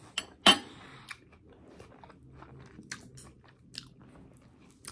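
Close, quiet chewing of a chopped salad with chickpeas and salami, a crisp bite near the start followed by soft intermittent crunches and faint clinks of cutlery.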